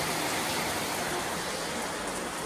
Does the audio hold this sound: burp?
no